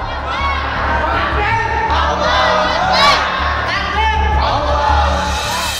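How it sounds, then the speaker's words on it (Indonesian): A dense crowd at the Cirebon district court in West Java shouts and chants loudly and continuously, rising voices overlapping in a sustained, energetic roar. "Pekikan suara "bebaskan" seketika terdengar ketika para terpidana rehat di Pengadilan Negeri"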